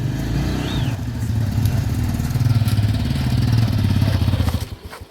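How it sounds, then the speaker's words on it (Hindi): A motorcycle engine runs at a steady, low, throbbing idle as the bike is pushed out onto the road in a Himalayan village, then fades near the end. "गाइस हमने बाइक निकाल दी है,"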